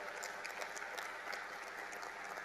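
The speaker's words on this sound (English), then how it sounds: "Let's give a round of applause." Faint, steady applause from an audience at a formal India–Japan cooperation ceremony, a distant even patter of many hands continuing alone throughout.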